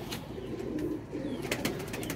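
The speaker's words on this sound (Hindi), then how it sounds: "तकरीबन 22 कबूतर हैं ना।" A flock of about twenty-two flying pigeons coos softly from a rooftop loft, with low rolling murmurs overlapping continuously and a few brief rustles, moderately close and without speech.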